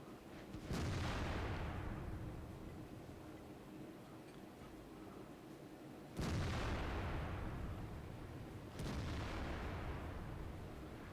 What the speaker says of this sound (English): that's where Pyro Bullet is launching all of his shots